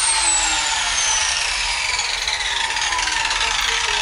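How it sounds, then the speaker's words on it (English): A Harbor Freight biscuit joiner cuts into wood on a workbench top, giving a steady, loud, close whine with a slowly falling motor pitch throughout. "Now that's a Harbor Freight biscuit cutter, biscuit joiner."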